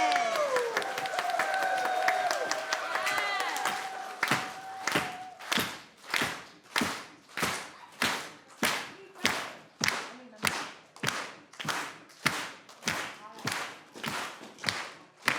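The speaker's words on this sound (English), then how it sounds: "So can we get a big, huge round of applause for Jeni?" Young children in grades one and two applaud a drummer at a school event, starting with a noisy burst of clapping and cheering, then settling into loud, evenly spaced rhythmic claps in unison.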